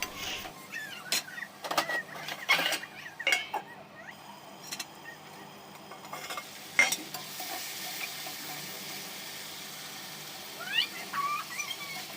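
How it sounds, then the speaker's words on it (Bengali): Potato and prawns stir-fried with spices in a pan: a steady low sizzle under repeated scraping strokes of a spatula, close by, with a few sharper clinks and no talking. "আমি আলু আর চিংড়ি মাছটা দিয়ে এবার ভালো করে কষাই করে নেবো"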